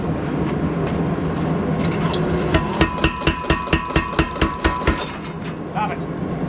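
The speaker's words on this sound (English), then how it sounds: "I'm going to put it on the anvil and straighten it out some," Blows of a hammer ring out as a fantasy dagger blade is straightened on an anvil. About ten sharp metallic strikes fall in a steady rhythm, up close, over a background roar that is likely a forge.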